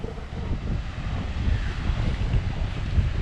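Ocean waves churn steadily at a natural pool on a rocky coast, a continuous roar of surf mixed with gusting wind noise on the microphone.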